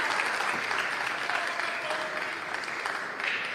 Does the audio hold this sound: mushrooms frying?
no